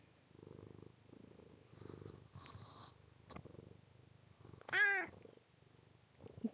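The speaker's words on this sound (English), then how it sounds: "Just lots of purrs." A cat purrs in soft, rhythmic pulses close by, followed by a short meow, then the purring continues faintly.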